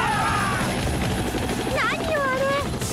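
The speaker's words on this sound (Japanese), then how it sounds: "なんだかヘリがこっちへ。" A helicopter approaching in an anime scene, its rotor and engine noise a loud, steady wash filling the scene under an overlaid music score, with a couple of voice-like exclamations breaking through.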